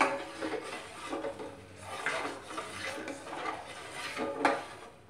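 A spoon stirs sugar into hot milk in a pot for thandai, giving soft repeated scraping and clinking against the metal in an uneven rhythm, close and quiet.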